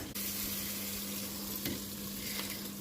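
Cumin and mustard seeds are tempered in hot oil, producing a steady, close frying hiss that fills the whole stretch, with a couple of faint stirring ticks and a low steady hum beneath, no talking.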